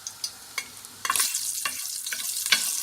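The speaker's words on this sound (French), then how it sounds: "je vais ajouter une toute petite cuillère de curcuma dans l'huile chaude tout de suite" A small spoonful of turmeric is dropped into hot oil and bursts into a bright, loud sizzle that keeps going steadily, after a few faint clinks beforehand.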